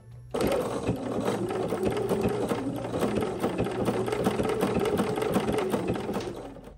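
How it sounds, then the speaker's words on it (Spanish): A sewing machine runs a curved seam on fabric for a Santa Claus gift sack with an appliqué. It gives one continuous, close, even whirring hum with a rapid needle tick that lasts for several seconds. "simplemente tenemos que ir moviendo la tela poco a poco para ir adaptando el centro del prensatelas con el borde de la tela"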